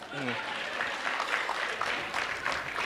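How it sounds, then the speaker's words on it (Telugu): A crowd applauds steadily, a dense patter of clapping that carries on after a brief voice at the start. "give him a big round of applause"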